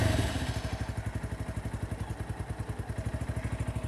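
A 2023 Zongshen single-cylinder 250cc motorcycle engine idling nearby, a steady thumping beat at an even rhythm, with no one speaking.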